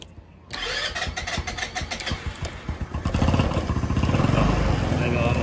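Rusi Passion SC125 scooter engine cranking and catching after a moment of quiet, rapid starter pulses settling into a steady close idle, with a voice talking over it.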